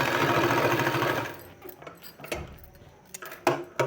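A sewing machine runs steadily and loudly while stitching piping for a sleeve, then stops and leaves scattered clicks and handling noises of fabric and tools.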